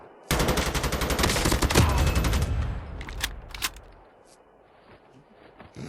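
A rapid burst of M4-style assault rifle fire in Call of Duty Mobile, dense rhythmic shots for about three seconds, followed by a few scattered single shots and quieter mechanical clicks.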